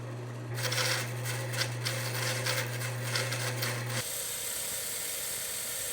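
A bandsaw hums steadily while a wooden circle is cut on a jig, with the blade biting into the wood in a rough, rasping cut for several seconds before the sound drops back to the saw running alone.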